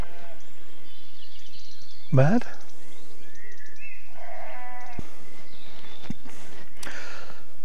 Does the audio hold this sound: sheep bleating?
yes